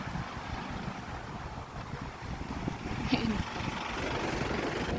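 Steady wind rushing and buffeting against the microphone, a constant roar with gusts, with no talking.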